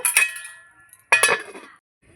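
A lid goes onto a cooking pot of fish curry with potatoes, making two distinct metallic clanks about a second apart, each ringing briefly and then fading, close and fairly loud.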